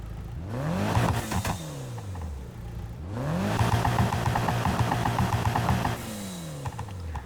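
A car engine in Need For Speed: Heat revs up and down in repeated sweeping bursts, with gear-change drops and a steady whirring drone.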